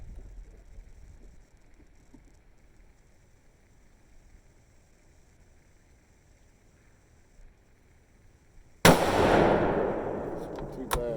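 A single loud, sharp rifle shot from a Savage 110 Predator in .243 Win firing a 70-grain handload, with a long decaying echo after a quiet stretch of faint outdoor background.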